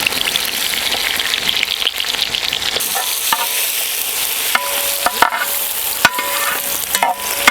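Sliced onions with bay leaf and garam masala spices fry in ghee, a loud, close, rain-like sizzle with a few stirring knocks against the pan, with no voices.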